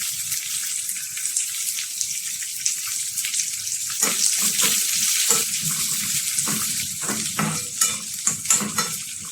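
Sliced onion dropped into hot oil with toasted urad dal and cumin, a bright close sizzle that swells as the onion goes in, followed by repeated scraping and clattering strokes of stirring in the pan, no talk.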